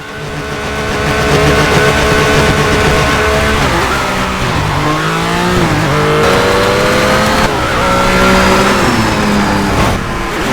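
In the Colin McRae Dirt racing game, a rally car engine revs hard and shifts through the gears, with rising and falling engine tones, tyre skids and squeal throughout, loud and continuous, with no talk.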